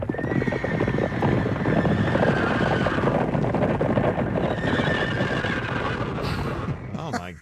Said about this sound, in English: This is horses stampeding through a ranch.